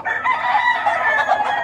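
A gamecock crows loudly and close, a raspy sustained call filling the whole moment with no talk over it.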